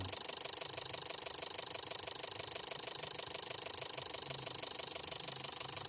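A Daihatsu Grand Max engine idles steadily with its RPM raised above 750, giving a close, even, continuous mechanical hum and fine rattle throughout, with no voices.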